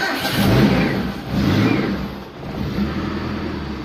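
A Daihatsu Zebra Espass engine turns over and revs in steady swells, a close, continuous mid-pitched motor sound with no talk over it.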